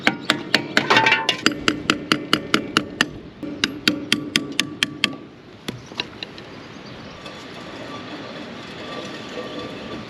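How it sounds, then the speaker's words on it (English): Repeated metallic clanks and scraping from a four-wheeler's brake as the jacked-up wheel is turned by hand, a rapid knocking rhythm for about five seconds before giving way to a low steady hum. "It's definitely the brake, not the wheel bearing."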